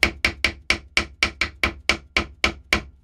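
Eleven light, evenly spaced taps of a rammer packing black powder in a spolette tube, sharp knocks repeating about four times a second, close and clear.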